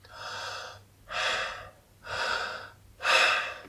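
Four slow, even breaths alternate in and out, each lasting under a second, close and fairly soft, with a faint low hum underneath and no talking.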